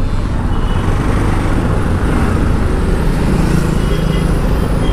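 Dense road traffic on a crowded street heard from a moving Bajaj Pulsar NS200 motorcycle, a steady loud wash of engines and tyre noise with low rumble throughout, without a break.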